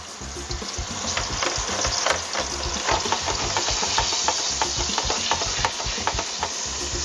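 Scallops searing in a hot pan, a dense, close sizzle with rapid popping and spitting that runs unbroken at a steady level.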